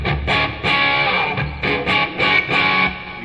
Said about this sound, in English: We put on a little distortion with the plexi.